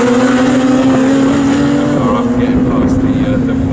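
Radical SR1 race cars at full throttle on the Snetterton circuit, a loud sustained engine drone that shifts pitch as they pass, with commentary talking over it.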